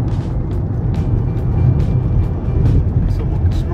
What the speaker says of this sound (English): We've been full throttle on every straightaway.